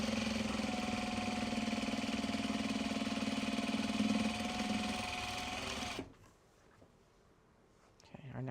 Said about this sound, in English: Okay, our next bobbin is wound